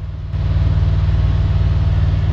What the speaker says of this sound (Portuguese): um carro monstro